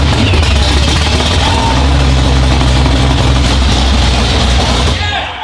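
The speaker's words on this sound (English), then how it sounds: "you guys check this clip out with no exhaust" ProCharged GTO engine running on a dyno with no exhaust fitted, a loud, raw, continuous roar with heavy low rumble that holds steady and fades at the end.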